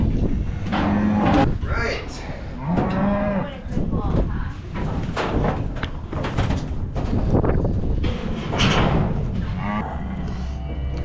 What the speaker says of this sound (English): so that's another bull